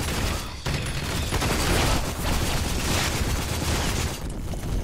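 Rapid turret gunfire in the video game Rage, a dense continuous burst of shots and booms at moderate loudness throughout.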